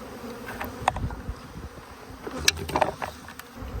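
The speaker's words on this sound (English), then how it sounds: "All these frames are pretty much covered with bees." A low, steady insect buzz of many honeybees on hive frames hums throughout, with small clicks and knocks of handling mixed in close by.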